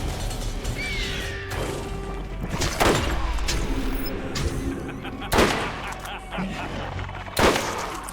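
Sniper rifle shots in Borderlands ring out as sharp, loud cracks at irregular intervals over busy game noise, with a few spaced heavy reports standing out.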